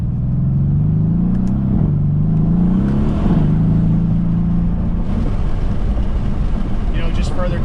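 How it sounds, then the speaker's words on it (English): A tuned Mercedes-AMG C63 GTS V8 drones loudly and steadily with a rising, shifting tone, a turbo whistle riding on top, heard from inside the car while people talk over it. "You definitely get more of that pronounced turbo whistle."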